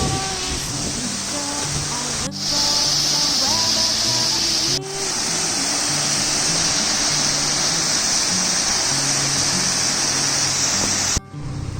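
A waterfall on a solo hike to Oker gives off a loud, continuous broadband roar of rushing water, close and steady throughout, with a few faint tonal sounds beneath it.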